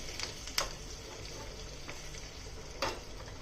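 Mustard seeds, cumin, curry leaves and asafoetida fry in hot ghee, a close, continuous sizzle punctuated by a few sharp pops and spatters.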